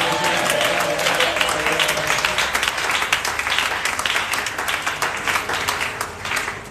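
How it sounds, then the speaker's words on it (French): Church congregation applauding loudly during a French-language worship service, a dense, sustained wash of clapping that holds steady throughout with no pauses. "Nous acclamons très fort"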